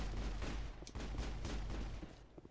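Sniper gunfire in the video game Mass Effect, on the planet Virmire: loud, dense bursts of game gunfire and impacts fill the whole stretch, with sharp cracks standing out near the start and middle.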